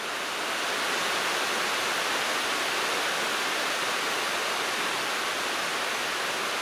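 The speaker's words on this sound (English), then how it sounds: "Wow, look at this. Lovely shower." Steady broadband hiss of a rain shower pouring down over a rural paddock, constant and fairly loud from start to finish with no pauses and no voices.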